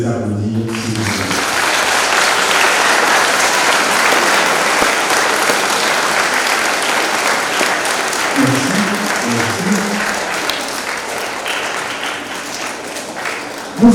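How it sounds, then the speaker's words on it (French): Sustained applause from a church congregation honoring students during a Catholic Mass for the Solemnity of the Immaculate Conception at St. Vincent de Paul, steady and loud throughout with a voice briefly audible at the start. "Je vous demande de les applaudir, s'il vous plaît."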